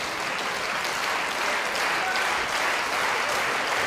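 A Swedish crowd applauds steadily and loudly throughout a women's singles table tennis quarter-final, a dense wash of clapping with no pauses.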